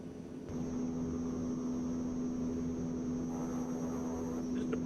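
A steady, droning aircraft engine in a flight simulator game sets in after a brief quiet moment and holds a constant tone and level throughout, with no voices.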